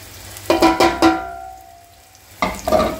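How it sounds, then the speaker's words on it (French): Small onions sizzle as they drop into hot olive oil in a pan for a homemade sausage and lentil dish, giving a few close, bright crackling bursts, then a quieter lull before the frying flares up again. "On va faire revenir les petits oignons dans la bonne huile d'olive"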